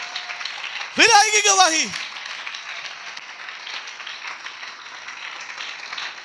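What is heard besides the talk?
church congregation clapping for Jesus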